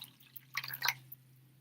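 Water poured into a vessel during a guided breathing ritual, a brief burst of splashing and trickling lasting under a second over a steady low hum, close and fairly quiet.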